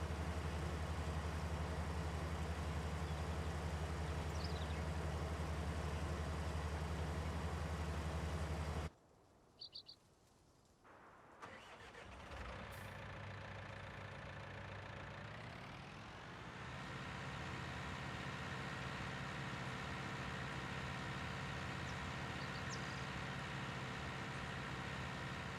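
Tractor engine in Farming Simulator 19 hums steadily, cutting out briefly around the middle before resuming with a slightly changed pitch as the vehicle keeps driving, with faint chirps of game birds and no talking.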